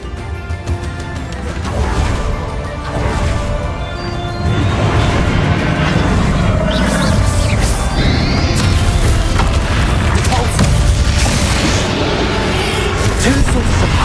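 Spell explosions in Hogwarts Legacy: a dense, continuous stretch of booming blasts, crashes and splintering impacts layered over game music, staying loud throughout with repeated sharp hits after the first few seconds.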